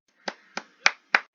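Four sharp hand claps, evenly spaced and close by, with silence between each.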